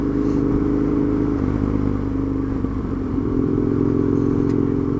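A Husqvarna Nuda 900R motorcycle on a test ride, a loud, close, continuous engine drone with a rough clattering edge and a slight change in pitch as it rides.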